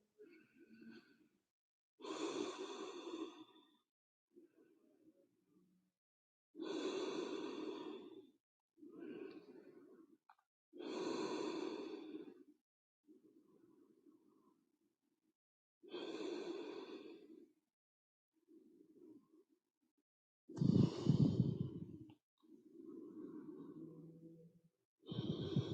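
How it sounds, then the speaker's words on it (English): Slow, deep breaths during a yoga pose, drawn in and let out in long audible sighs with quiet pauses between them, close and fairly soft. "So just breathe into it."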